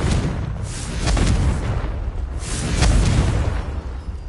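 Confringo spell blasts in the video game Hogwarts Legacy, several deep booming explosions in quick succession that swell and fade, loud and close with no talk.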